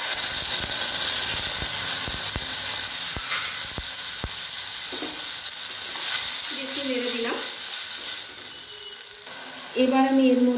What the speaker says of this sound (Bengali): এগুলো সব ভাজা ভাজা হয়ে গেছে, এবার আমি এর মধ্যে দেবো টমেটোর পেস্ট।